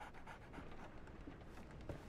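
A dog pants in the Sherlock Holmes video game The Awakened, a steady quiet rhythm of breathy huffs close by with no talking.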